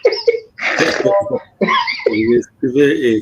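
A man coughs and clears his throat close by, giving several harsh, raspy bursts separated by short pauses.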